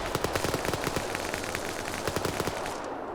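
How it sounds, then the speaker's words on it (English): Rapid automatic gunfire in a multiplayer combat video game, dense bursts of sharp shots crackling in quick succession at a moderate level, with no talk, fading off at the end. "More hails of bullets here."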